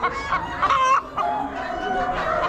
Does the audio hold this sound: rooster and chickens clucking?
yes